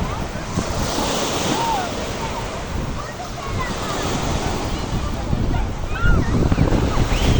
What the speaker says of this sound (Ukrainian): Вітер сильний дуже з моря.